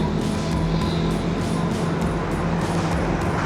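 A Commodore car driving past on a road nearby, its engine a loud, rough, truck-like roar that stays steady and heavy throughout the short pass.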